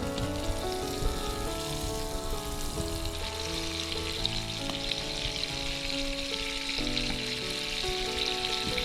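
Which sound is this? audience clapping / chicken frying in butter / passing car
chicken frying in butter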